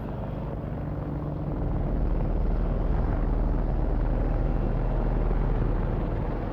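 An attack helicopter armed with a 30mm chain gun and Hellfire missiles flies at an RAF Fairford air show, giving a loud, steady, unbroken rotor and engine roar with no voices.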